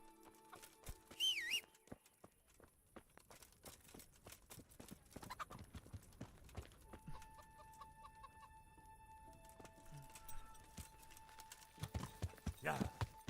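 Horse hooves clip-clop in Kingdom Come Deliverance, played on PC, a steady walking rhythm mixed with clucking chickens and other game ambience while someone talks over it.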